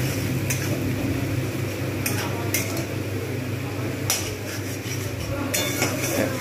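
Spice masala is stirred in a pan for a katla fish head and potato muri ghonto, a steady sizzle under repeated metallic scrapes and clinks of the spatula, fairly loud and close.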